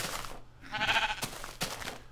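Minecraft sheep give a short, faint bleat in the middle, with soft clicks and noises on either side.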